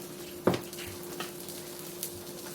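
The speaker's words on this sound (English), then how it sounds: "just because we are frying this, so we want it to have plenty of oil to get the job done" Avocado oil sizzles steadily in a pan as chicken fried steak fries, close up, with a few soft clinks and stirring knocks over the frying hiss.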